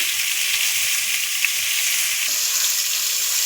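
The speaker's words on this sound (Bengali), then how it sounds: "পটলটা একটু ভাজা হোক ভালো করে।" Pointed gourd (potol) sliced lengthwise and slit sizzles in hot oil for a homestyle garlic dish, giving a constant, even frying hiss with no voices.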